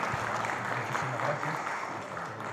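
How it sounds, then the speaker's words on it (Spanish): Brief audience applause at a church tribunal gathering, modest clapping at low volume for a couple of seconds with a faint voice murmuring underneath. "Un aplauso"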